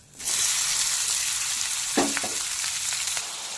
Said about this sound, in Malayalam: ഞാനിപ്പോൾ കോളിഫ്ലവർ ഷാളോ ഫ്രൈ ചെയ്ത പാത്രത്തിലേക്ക് തന്നെ അല്പം ഓയിൽ ഒഴിച്ച് ഇനി സവാള അതേപോലത്തെ ഇടുവാണ്.